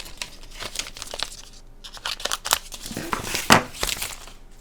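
Paper being cut away and torn off a journal page, with crisp crinkling and ripping bursts in irregular spurts, close and fairly quiet, no talking.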